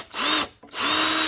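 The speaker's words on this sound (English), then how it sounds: "So put your drill on a lower setting" Power drill driving a screw into a wooden stool leg on a low torque setting, two loud sustained whirring bursts split by a brief pause, close up with no talk.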